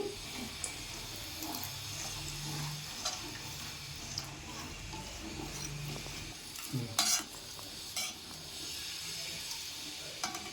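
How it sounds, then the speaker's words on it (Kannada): Vanilla custard powder mixture being stirred in a pan for a bread custard sweet, a steady soft scraping and swirling with faint sizzling underneath, continuous at close range with a few sharper clinks of the utensil. "ಇವಾಗ ಒಂದು ಕೈಲಿ ಹಾಕ್ತಾ ಇನ್ನೊಂದು ಕೈಲಿ ತಿರುಗಿಸ್ಕೊಳ್ಳೋಣ"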